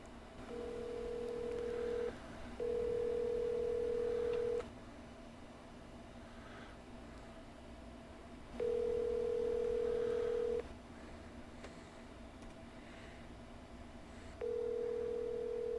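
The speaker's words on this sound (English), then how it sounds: "I'm literally going to phone a friend. I'm going to call my dad." Phone call being placed: a steady tone sounds in four long bursts separated by pauses, with faint background hiss and no talking.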